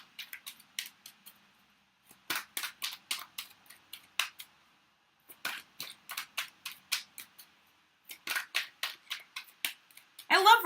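Tarot cards being shuffled, handled and laid out on a table, a run of short, crisp snaps and flicks in quick irregular groups with quiet gaps between them.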